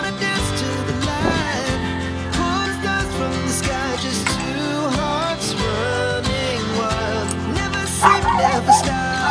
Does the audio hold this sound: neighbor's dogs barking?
yes